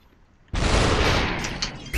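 Sudden loud burst of gunfire in the VR shooter SuperHot VR, a dense roar of shots erupting after a quiet moment and sustained to the end, with a fresh blast at the close.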